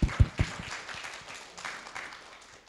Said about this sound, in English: So please clap your hands.